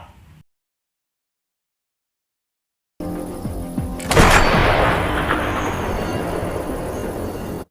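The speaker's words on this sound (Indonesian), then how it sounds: "sniper Rusia tersebut menembak mati Klim" A Russian sniper rifle shot in a war film, one sharp loud crack followed by a long rumbling echo and decaying tail after a stretch of silence.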